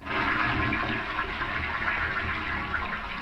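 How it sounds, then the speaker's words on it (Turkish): A toilet flushes in the Smolsies video game, a loud, steady rush of swirling water that fills the whole moment without pause and with no speech over it. "Bana sifon sesi geldi."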